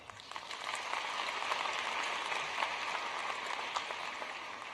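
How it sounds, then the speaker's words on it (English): Audience applause fills a commencement ceremony for fall graduates, a dense, steady wash of clapping from a large crowd that holds evenly throughout without voices. "Give another round of applause for everyone"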